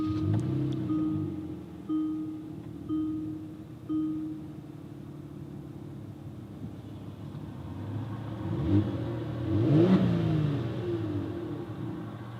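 A 2018 Kia Stinger GT2 engine cranks and fires after a push-button start, settling into a steady idle rumble with a brief rev swell near the end, heard from close inside the cabin.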